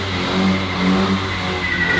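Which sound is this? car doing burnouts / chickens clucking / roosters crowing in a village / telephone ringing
car doing burnouts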